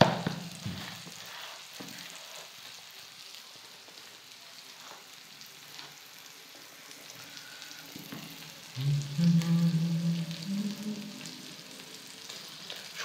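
Fresh puti fish fry in hot oil, a steady close sizzle and crackle throughout that swells louder toward the end.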